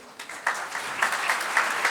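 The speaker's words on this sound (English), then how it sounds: "Clap for him, please." An audience at a culinary school student induction day claps steadily for a short stretch, with a few sharper individual claps standing out near the front of the room.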